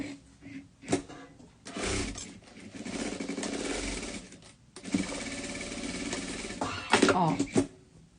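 A sewing machine stitches the side seam of a garment, running in several short and longer bursts of motor whir with pauses between, while someone talks over it.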